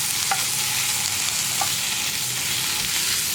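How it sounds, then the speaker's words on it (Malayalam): Tomatoes being added and stirred into a frying okra tamarind curry, a steady loud sizzle with a couple of faint clinks of the spoon against the pan. "ഇനി ഇതിലേക്ക് നമ്മൾ കട്ട് ചെയ്ത് വെച്ചിരിക്കുന്ന നമ്മുടെ തക്കാളി ചേർത്ത് കൊടുക്കാം"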